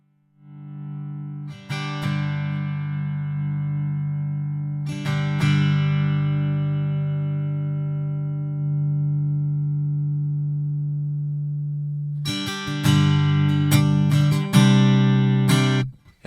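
Sustained acoustic guitar chords played through a Sonicake effects pedal ring out with a smooth, processed tone, struck a few times then left to sustain, followed by a quick strummed flurry.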